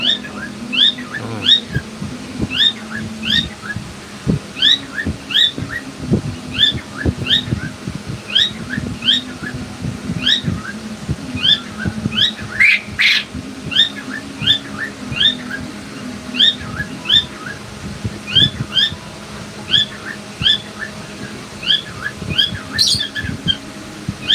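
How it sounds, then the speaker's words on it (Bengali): Birds call with sharp, regularly repeated squawks and chirps at a pigeon market selling old pigeon breeds. The calls come at roughly even intervals over a low, busy market background. "আরো পুরান জাতের কিছু কবুতর আছে দেখাচ্ছি আপনাদের"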